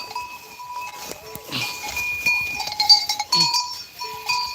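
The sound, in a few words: goat bleating and moving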